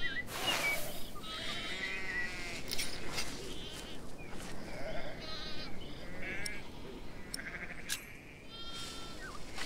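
Sheep in the Pillars of the Earth game bleat repeatedly at close range, several overlapping wavering calls over a busy outdoor ambience.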